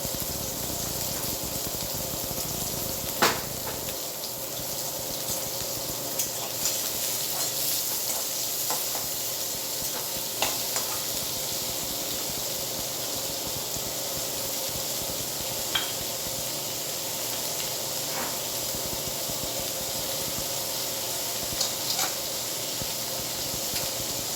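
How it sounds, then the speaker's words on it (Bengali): Onion fries lightly in a pan with a loud, continuous close sizzle, punctuated by a few sharp clinks of a spatula stirring against the pan. "প্রথমে আমি পেঁয়াজ দিলাম, পেঁয়াজটাকে আমি হালকা করে ভেজে নেবো।"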